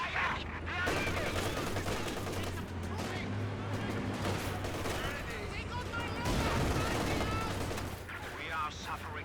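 Gunfire and battle noise from the video game Company of Heroes 2 as a half-track comes under fire, a dense, continuous clatter of shots and explosions with a steady low engine drone, voices calling out over it.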